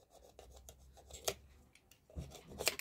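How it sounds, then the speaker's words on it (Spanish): Sanding and skiving the edges of a shoe's leather piece on its reverse side: soft rasping and rubbing strokes, quiet and irregular, with a couple of sharper scrapes. "Luego hay que lijar y descarnamos las orillas."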